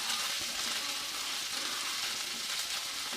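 Chicken browning in a frying pan for a Chinese-style lemon chicken, giving a steady, dense sizzle that holds an even loudness throughout with faint stirring underneath and no voices.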